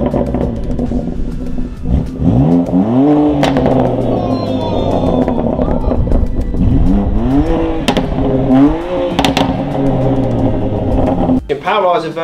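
A car fitted with a Remus PPF-friendly exhaust revs loudly several times, its engine pitch rising and falling in repeated surges while people talk over it.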